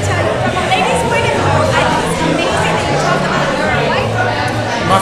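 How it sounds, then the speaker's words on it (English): A loud, hyped crowd at the Denver Improv comedy club fills the space with continuous dense chatter and overlapping voices, a steady roar of babble with no pauses. "The crowd is hyped. That's why it's so loud right now."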